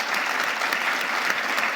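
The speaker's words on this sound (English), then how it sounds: "I think that deserves a round of applause," An audience claps at a luncheon on Hispanic businesses, with dense, even applause from a crowded room continuing steadily for under two seconds and no voices over it.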